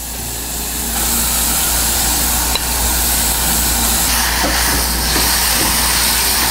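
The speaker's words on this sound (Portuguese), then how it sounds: "refoga assim que a cebola ficar transparente, a gente entra com a linguiça" Sausage and onion sautéing in a pan, a steady, loud broadband sizzle that continues unbroken, with a few faint clinks and stirs and no talking.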